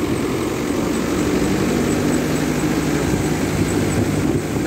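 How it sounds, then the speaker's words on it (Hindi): A new Kubota MU5502 thresher runs on a straining tractor engine, a loud, steady, dense mechanical roar that holds without a break throughout. "आज मैं दिखाऊंगा आपको कुबोटा का MU5502 जापान टेक्नोलॉजी। और जी ये मशीन है थ्रेसर, नई मशीन है थ्रेसर है,"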